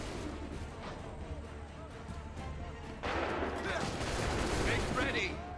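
Musket volleys and scattered gunfire in an Assassin's Creed 3 battle, a rumbling barrage that swells louder halfway through with heavy booming shots, while shouted commands ring out over the din.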